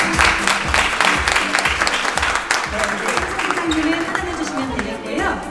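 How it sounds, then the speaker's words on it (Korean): A crowd applauds steadily and fairly loudly throughout at a Kia press event, with a voice speaking Korean over the clapping in places. "여러분 다시 한번 박수 부탁드리겠습니다"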